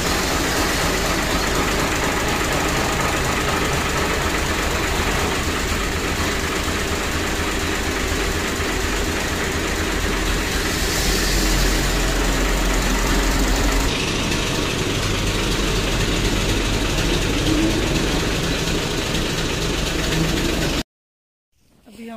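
Tractor-driven thresher engine running, a continuous heavy low rumble with mechanical droning that holds steady and loud before cutting off abruptly near the end.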